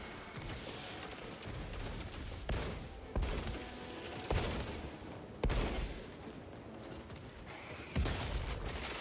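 Bolter gunfire in the video game Space Marine 2, heavy rapid shots over a dense battle din, with several sharp loud bursts standing out at irregular intervals.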